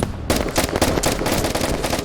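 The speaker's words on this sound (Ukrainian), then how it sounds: "Там хтось стріляв по нам" Gunfire in a US-versus-USSR desert battle in the video game Operation: Harsh Doorstop: a dense run of loud, rapid shots starting after a brief quiet moment and continuing steadily to the end, with no voices.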